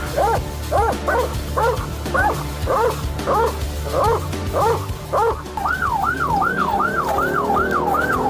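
A police dog barks repeatedly in quick, loud yips close by during an arrest, then an emergency siren wails in rising and falling cycles over the last few seconds.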